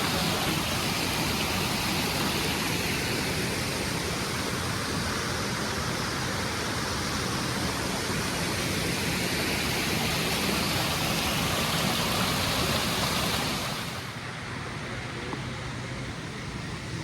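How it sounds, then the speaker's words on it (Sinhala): A small waterfall in Ireland, steady broadband rushing and splashing water heard close and continuous, dropping slightly in level near the end. "ඔන්න බලන්න පොඩි දියැලක්."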